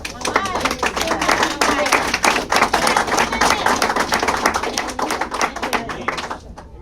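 A group claps at a local mayoral campaign meeting, with a dense, steady patter of hands from a modest crowd close by that fades out near the end.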